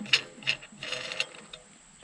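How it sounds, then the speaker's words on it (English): A plastic hatch knob being unscrewed on the deck of a zero turn mower, heard as a few close, light ratcheting clicks and ticks spread over two seconds, fairly quiet. "You can unscrew this knob"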